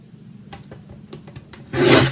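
Half-inch paper strips are cut for a craft project: a series of soft, short scraping strokes, then one louder, rasping pass close by near the end.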